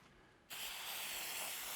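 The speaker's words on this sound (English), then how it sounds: "So that's where the spray comes in." Aerosol can of compressed air blasting dust out of an old PC, a sudden loud continuous hiss that starts abruptly after a quiet moment and holds steady close by.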